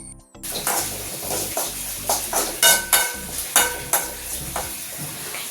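Shallots, garlic and turmeric powder frying in a pan for a Kerala thoran, a steady sizzle broken by repeated scraping stirs of a spoon against the pan, no voices.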